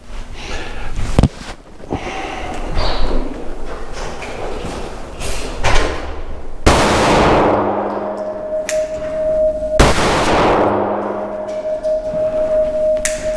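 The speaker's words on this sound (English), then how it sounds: "This is it, the 9mm RM1C California Edition Glock 19 clone. Let's see how it shoots." A 9mm Rost Martin RM1C California Edition pistol, a Glock 19 clone, fires at a target: a few sharp, loud reports spaced seconds apart, each leaving a ringing tail.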